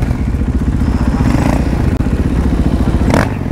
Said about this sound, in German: Ich mache jetzt ein paar Wheelies.